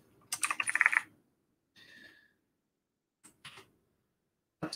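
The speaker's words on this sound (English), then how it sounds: "Keystrokes." Bursts of computer keyboard typing, a quick run of clicking keystrokes followed by a few short, sparse taps and a final single keystroke, close and alone with no talking.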